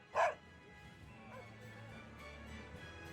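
A dog in the Tales of Berseria video game gives one short, sharp bark near the start, then quiet game ambience with a soft background hum follows.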